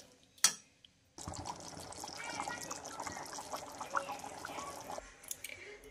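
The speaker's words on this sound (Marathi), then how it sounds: "थोडं पाणी घालून आपण याला घालणार आहोत अजून" Water from the mixer jar used to grind the spice paste is poured into a pot of chana masala, a steady splashing pour lasting several seconds after a brief sharp clink, close and fairly quiet.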